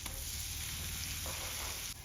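Butter and garlic paste sizzle steadily in a pan for a Kerala-style Turkish chicken sauce, a soft, even frying hiss with faint stirring.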